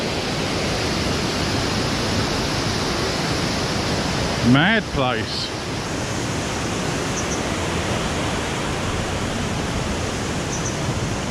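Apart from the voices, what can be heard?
waterfall at Plitvice Lakes pounding a staircase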